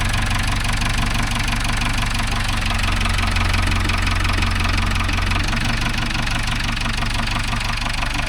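A JCB 3DX backhoe diesel engine idles steadily with a knocking, rhythmic chug, close and continuous with no voices.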